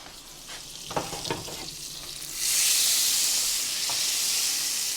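Garlic frying in a pan with leftover shrimp juices for shrimp scampi linguini, a few stirring scrapes first, then a loud steady sizzle and hiss that holds, with no talk.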